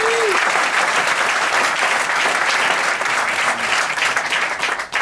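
Sustained audience applause at a Grammy Museum talk in Los Angeles, a dense, steady wash of clapping that fills the whole stretch and thins slightly near the end.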